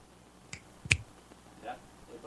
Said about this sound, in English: stop snapping your fingers at us